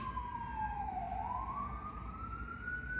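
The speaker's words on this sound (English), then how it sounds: "that ambulance" An ambulance siren wails nearby, a single tone sliding down then rising again, steady and fairly faint over low traffic rumble, with no talking.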